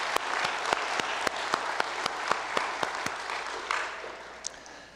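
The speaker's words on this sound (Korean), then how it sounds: "하나님께 감사의 박수 올려드리겠습니다." A church congregation claps in thanks during a Sunday worship service, with steady, dense applause and sharp individual claps cutting through, fading slightly toward the end.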